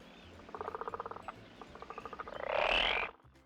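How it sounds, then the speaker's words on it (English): Toad croaking in a steady pulsed series of rapid trills, fairly close and moderately loud, followed by a brief louder burst near the end, with no voices. "Toad."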